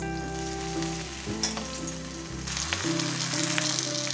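Fish for Kerala pollichathu fries in oil in a pan with a continuous close sizzle and a low hum in the background. Brief clatters sound as it is handled, and then a brighter, busier crackle follows. No speech.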